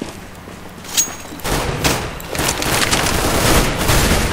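Submachine gun fire in Counter-Strike: Global Offensive, loud sustained bursts of rapid automatic shots with booming impacts, following a single earlier shot and some quieter game noise.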